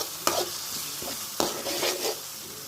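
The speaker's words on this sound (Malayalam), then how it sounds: "നന്നായിട്ട് മിക്സ് ചെയ്യാം." A spoon stirs tomato and soy sauce in a sizzling pan, giving a few distinct scraping strokes over a low, steady fry.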